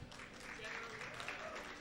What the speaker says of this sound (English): A big round of applause for Biggie Mac